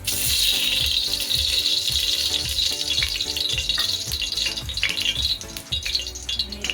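Oil hitting a hot cooking pot for Marathi-style mutton dum biryani gives a loud, steady frying sizzle with crackling bursts, close and continuous with no voices.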